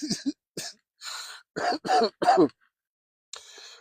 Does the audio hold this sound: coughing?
yes